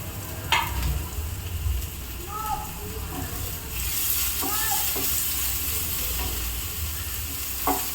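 A large chopped onion sizzles and crackles in a hot pan, a steady frying hiss with occasional stirring scrapes while a voice talks over it in Tamil.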